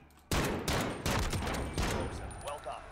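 Sniper rifle gunfire in Call of Duty: Warzone: several loud, sharp shot bursts in quick succession with some rumbling between them, close and dominant.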